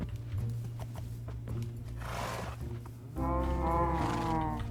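Horse sounds from Minecraft, a snorting, whinnying call rising over a steady low game drone, moderately loud and close, with no talk.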